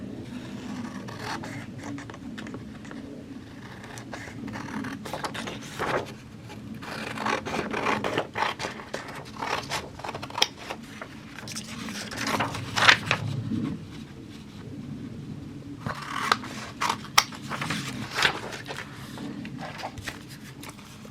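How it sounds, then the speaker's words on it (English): Paper is cut out by hand with repeated close snips and rustling scrapes, irregular and moderately loud, with handling noise between cuts. "So let's go ahead and cut this out."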